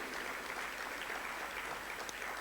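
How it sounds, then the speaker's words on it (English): Audience applause at a sustainable cooling summit in Eswatini, a steady wash of many hands clapping, fairly distant and soft, with no talk. "join me in applauding all our engineers and scientists"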